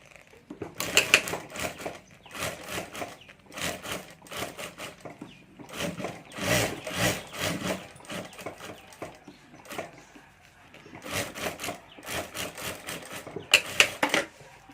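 A sewing machine stitches a handmade hand bag in bursts of rapid mechanical clatter, repeatedly starting and stopping with short pauses between runs, heard up close.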